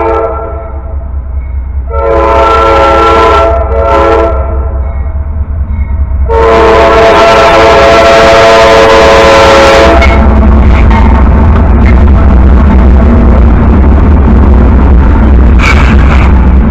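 A Norfolk Southern double-stack intermodal freight train passes close by with loud, sustained horn blasts, two short ones and then a long one, over the steady roar and rumble of the moving cars.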